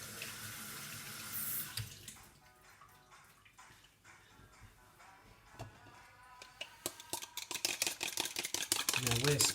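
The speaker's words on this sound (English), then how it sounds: "My hands are dirty, rinse that off." Water from a kitchen tap runs over dirty hands being rinsed during omelette prep, a steady close splashing with scattered clicks and knocks that grow busier toward the end.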